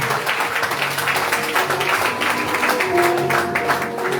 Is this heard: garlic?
no